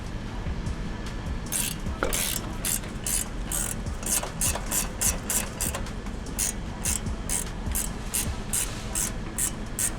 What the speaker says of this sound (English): you want to remove the nut holding the knuckle to the upper control arm